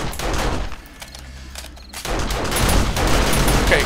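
Automatic turrets in the zombie survival game 7 Days to Die fire in rapid, dense bursts, pausing briefly before the gunfire resumes loud and sustained.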